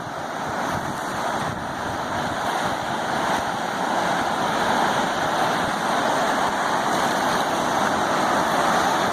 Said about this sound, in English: Just enjoying a little bit of time at the water before I call it a day down here at the river.